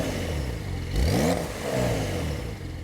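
A 2022 Porsche 911 Targa 4 GTS rear-mounted 3-liter twin-turbo flat-six revs up sharply with a rising whine, then settles back to a steady idle rumble.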